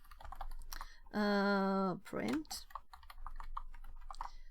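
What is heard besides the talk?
typing on a computer keyboard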